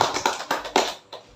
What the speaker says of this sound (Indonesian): tepuk tangan buat saudari Iza